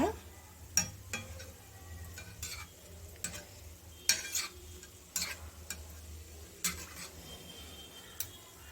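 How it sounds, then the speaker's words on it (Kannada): Shankarpali frying in oil and being lifted out, with a soft low sizzle beneath a series of distinct clicks and scrapes of a slotted spoon against the pan at irregular intervals. "ಈಗ ಇದನ್ನು ಎಣ್ಣೆಯಿಂದ ತೆಗಿಯೋಣ"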